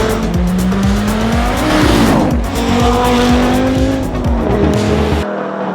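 An Audi RS3 engine roars at full throttle, loud and close, with a sustained rising and falling drone. Tyre squeal runs underneath the engine.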